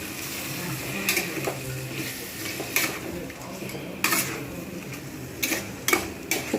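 Prawns are stirred with spice paste in a hot pan for a restaurant-style prawn curry, giving a steady sizzle broken by repeated sharp clinks and scrapes of a metal spoon against the pan.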